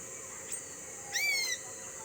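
A rescued bird chick being fed by its mother outdoors, with a faint brief chirp followed by a clearer high-pitched call of about half a second over steady background hiss.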